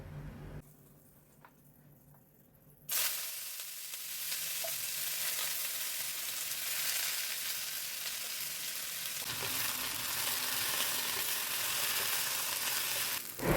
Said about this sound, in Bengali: আলুটা প্রায় ভাজা শেষ হয়ে এসছে